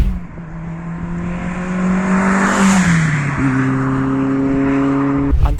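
A Renault Clio 2 RS F1 Team 182 hp engine revs up hard, its pitch climbing and dropping between gear changes, loud and close with a raspy exhaust note throughout.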